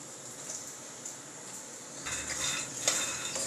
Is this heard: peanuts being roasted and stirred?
yes